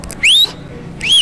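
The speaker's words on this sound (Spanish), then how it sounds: "Chiflando, chiflando." Two short rising whistled notes, each a bright upward sweep, separated by a brief pause, close and clear over a quiet background.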